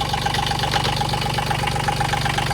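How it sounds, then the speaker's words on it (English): A Kubota engine idles steadily in a Bobcat 320 mini excavator, close and loud with a constant low rumble and a slight rattle throughout. "it's a Kubota engine"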